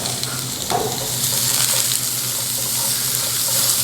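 Sweet Vidalia onions sizzle and fry in hot oil in a pan, a loud, steady crackling hiss with a few stirring scrapes, close up and without speech.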